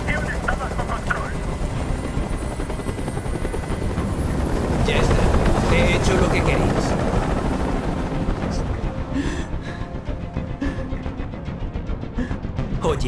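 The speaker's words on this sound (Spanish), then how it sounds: "¡Dile a ese helicóptero que se vaya de aquí!" A helicopter hovers overhead in the video game Detroit: Become Human, a loud continuous rotor roar and engine whine that swells in the middle and fades slightly, with voices talking over it.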